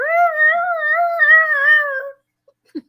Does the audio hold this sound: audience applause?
no